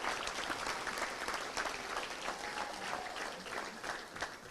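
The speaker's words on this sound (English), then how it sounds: "I want all of our volunteers to stand real quick. Let's give them a round of applause." Volunteers at a Little Rock Touchdown Club meeting get a round of applause, a steady patter of many hands clapping at moderate, slightly distant volume with no voices over it.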